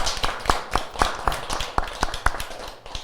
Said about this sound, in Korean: 다시 한번 박수로 수고하셨다고.